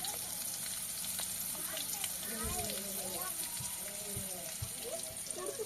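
Food sizzles steadily in a hot pan on a home kitchen stove, with occasional stirring clatter and scraping; people talk over the frying throughout.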